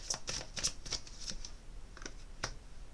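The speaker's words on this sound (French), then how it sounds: "je vais retirer une deuxième carte dessus" Tarot cards drawn from a deck and handled, giving a series of crisp, close paper snaps and flicks in irregular bursts, with quiet pauses between them.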